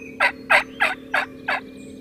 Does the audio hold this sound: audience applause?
no